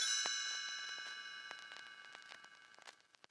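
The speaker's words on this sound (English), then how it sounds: "You will know it is time to turn the page when you hear the chimes ring like this." Chimes ring once as a page-turn signal in a read-along story, a bright shimmering cluster of tones that fades with scattered light tinkles over a few seconds.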